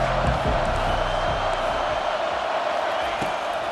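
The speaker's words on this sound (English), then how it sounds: "Decibels rising as the crowd gets behind this defense on third down." A stadium crowd in the EA Sports College Football 25 video game roars steadily behind the defense on third down, a dense, loud continuous wall of cheering with a few thumps early on.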